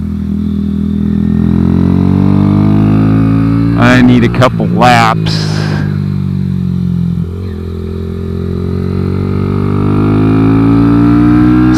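Kawasaki Z125 track bike engine buzzing steadily at high revs, dipping briefly during gear changes, recorded up close with a short burst of clatter and a rider's voice in the middle.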